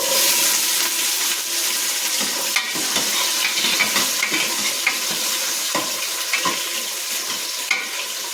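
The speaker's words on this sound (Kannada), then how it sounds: "ಬನ್ನಿ ಒಗ್ಗರಣೆ ಹಾಕೋಣ ನೋಡಿ ಒಗ್ಗರಣೆ ಹಾಕ್ತಿದ್ದೀನಿ" Tempering spices crackle in hot oil for a vegetable biryani, a loud, steady sizzle punctuated by scattered pops and stirring scrapes, close up with no talking.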